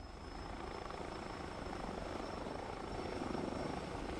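A helicopter in Microsoft Flight Simulator gives off a steady, dense rotor and turbine drone that holds loud and even throughout, with no voices over it.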